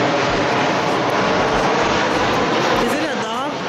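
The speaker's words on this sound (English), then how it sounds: "Oh, there's another plane." An airplane passes overhead with a loud, broad, steady engine roar that holds throughout, and a voice is heard near the end.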